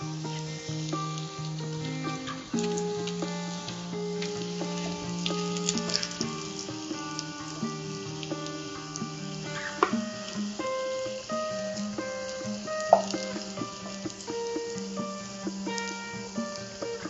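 Chicken cutlets frying in hot oil, a steady crackling sizzle with scattered pops running the whole time, close and moderately loud, with music playing over it.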